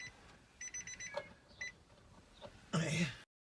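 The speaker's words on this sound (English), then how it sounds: "Let me just get rid of that beep." A few short electronic beeps from a QVIA AR790 dash cam as the car's accessory power comes on chirp in quick succession, faint and close, followed by a brief louder rustle before the sound cuts off.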